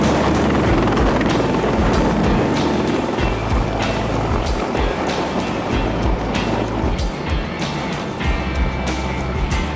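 A Sikorsky CH-53E Super Stallion, a three-engine heavy-lift military helicopter, roars steadily with a dense, loud wash of engine and rotor noise and a faint rhythmic rotor pulse throughout, with no voices.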